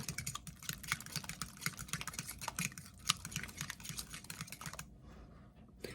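Egg is whisked into mashed banana in a bowl, a rapid, irregular series of light clicking taps from the whisk against the bowl, close and quiet, stopping near the end.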